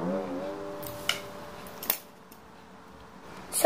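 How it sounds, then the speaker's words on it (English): Scissors snip through a plastic drinking straw while a paper windmill is being made, giving a few sharp, separate cuts spaced about a second apart, close and fairly quiet in a still room. "you have to use scissors and make a line over here to make this place flat"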